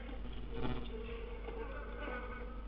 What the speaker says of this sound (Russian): от трупа я заметил, что мухи слышат